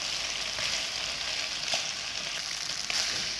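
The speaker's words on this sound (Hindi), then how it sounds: "चावलों को अच्छे तरीके से मिक्स कर लूंगी।" Rice mixed into fried spices in a pan for chicken and vegetable fried rice, with a continuous loud hiss of frying and soft stirring throughout.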